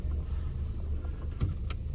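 An old Volvo 960GL sedan driving uphill, heard from inside the cabin as a low steady engine and road rumble with a few small rattles, no talking.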